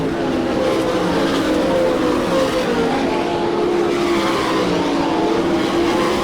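Sprint race cars at an All Star Circuit of Champions race in Hartford, Ohio, their engines droning loud and steady with layered tones that rise and fall as the cars run laps together.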